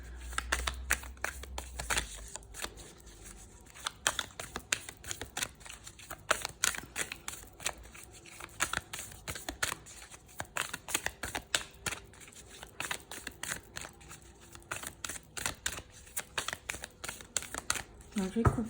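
Tarot cards cut and handled by hand in a series of quick, close crisp snaps and riffling clicks that run steadily throughout, with a voice talking over parts of it.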